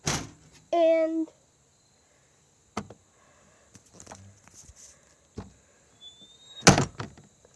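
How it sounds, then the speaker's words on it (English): A car door is handled inside a parked vehicle, with a sharp latch click and creak near the start, then scattered thuds and a loud slam near the end, separated by quiet gaps. "You have a door that opens here."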